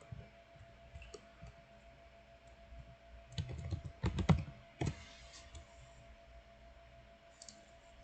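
A few soft computer keyboard key presses and clicks during flow-simulation setup, quiet at first then a short cluster of taps in the middle, faint against a low steady hum.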